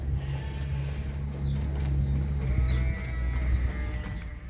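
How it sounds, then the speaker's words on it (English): Ewes from a fall ewe lamb group on a sheep farm bleat and stream out through an open gate, several calls over a steady rumble of movement and low background noise, fairly close. "And here's the running of the ewes. This is the fall ewe lamb group."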